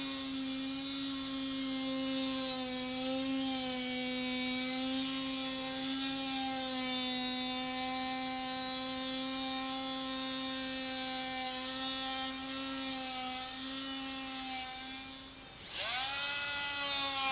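A tool cuts old windscreen bonding agent off a car body flange with a steady, high electric whine that holds nearly constant, dips briefly near the end, then resumes.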